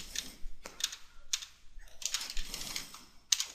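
Fingers tap on a computer keyboard in short, irregular bursts of crisp clicks, quiet and close, with brief pauses between keystrokes.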